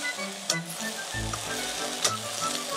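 King oyster mushrooms sizzle in a frying pan, a close steady crackle with a couple of sharp spatula clinks and a brief swell of hissing partway through.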